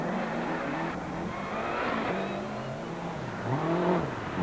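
Lancia rally car at the 1991 Lombard RAC Rally in Britain, its engine pitching up and down as it drives a forest stage through sweeping corners, steady and fairly near, with no voices.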